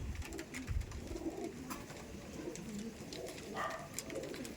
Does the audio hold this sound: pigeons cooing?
yes